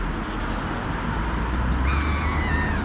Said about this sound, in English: My little crows are coming.